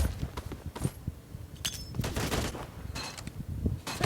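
Gunfire in a shooter video game, with a sniper rifle in use, comes as quick bursts of cracking shots, some rapid and clustered and others spaced apart, fairly quiet throughout.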